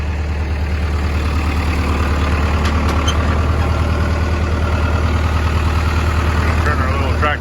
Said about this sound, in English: Tractor's running